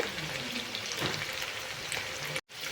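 Chicken pieces sizzle and fry in hot oil, a steady close crackle that runs throughout without stirring or talk, briefly cutting out near the end.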